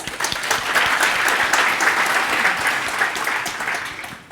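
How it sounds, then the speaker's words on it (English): A conference audience at an engineering talk applauds steadily and fairly close for about four seconds, a dense even wash of clapping that fades at the end. "round of applause to them."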